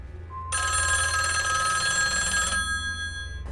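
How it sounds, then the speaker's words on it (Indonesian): A telephone belonging to a character in a tense film scene rings once in a sustained bright electronic trill lasting about two seconds, heard clearly over a low background hum, with no voices. "tiba-tiba suara telepon milik Kersen berdering"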